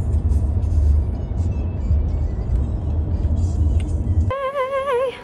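A steady low engine rumble and road noise fill the cabin of a car on its way to the airport, fairly loud and continuous, until a short melodic chime breaks in at the end.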